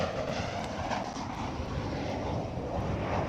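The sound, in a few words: Boeing 747 taxiing out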